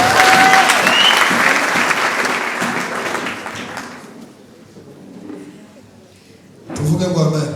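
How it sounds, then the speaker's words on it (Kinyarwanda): Loud, dense applause from a church congregation at a gospel event, sustained for several seconds then thinning out, with a brief burst of voices near the end. "Tumukomera amashyi cyane"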